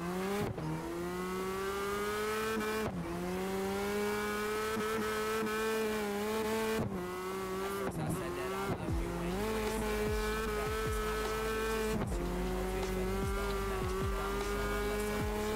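In CarX Drift Racing Online, a Panther M5 drift car screams at high revs with rising and falling engine pitch and recurring gear-shift dips, tires squealing and skidding beneath it, loud and close throughout.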